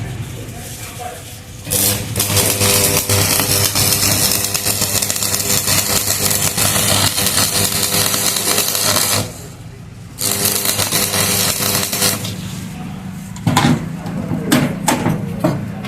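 An arc welder lays a third-layer bead, giving a loud, continuous crackling sizzle nearby that stops for about a second twice as the run pauses, then resumes.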